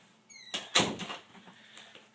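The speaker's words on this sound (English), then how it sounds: "let me close my door." Door being closed indoors: a brief squeak followed by a couple of solid thunks close by, then quiet rattling as it settles.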